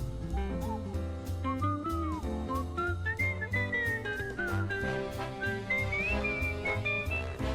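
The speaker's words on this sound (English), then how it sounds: "The whistle's very different." Whistled melody in a big-band, jazzy Mario Kart World soundtrack, the bright whistle line gliding over steady brass, bass and drum hits throughout.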